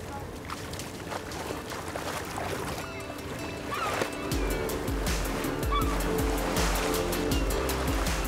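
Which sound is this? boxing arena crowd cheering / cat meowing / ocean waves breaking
ocean waves breaking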